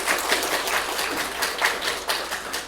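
Congregation applauding at a Korean Sabbath church service, a steady round of many hands clapping with a pulsing, slightly uneven rhythm at moderate loudness.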